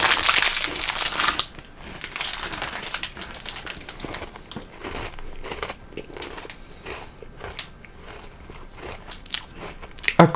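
A chocolate orange crunch cream biscuit is bitten and chewed right at the mouth, a loud initial crunch followed by a run of quieter, irregular crunching and crackling.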